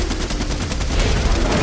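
Rapid bursts of gunfire in Fortnite fired at a massive dinosaur, dense overlapping shots rattling continuously and loudly with no pauses.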